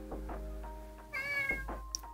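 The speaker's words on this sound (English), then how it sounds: "And this is the kitty." A house cat meows in a studio office, a string of short chirpy mews and one longer, higher meow, close and fairly quiet over a low hum.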